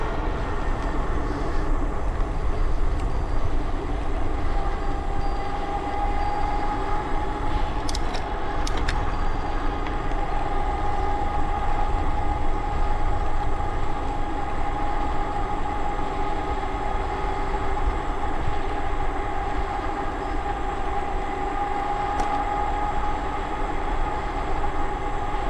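A throttle-driven vehicle speeds along the Cannonball Trail toward Jerome Road, producing a continuous, even rumble and rushing wind noise that holds steady throughout, with no talking.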